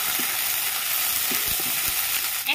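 Onion and ginger paste frying in a pan, a close, continuous hiss and sizzle with a few soft knocks underneath.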